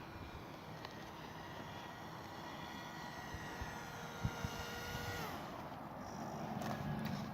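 An RC model airplane circling in to land, a thin steady motor drone heard from a distance over broad outdoor wind noise, with no talk.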